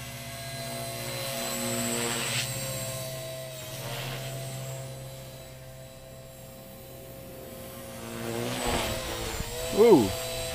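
A Blade 300x RC helicopter fitted with a 450 motor and 12-tooth slant pinion runs at full throttle, its whine and rotor whir swelling and fading as it passes, with a sharp surge near the end.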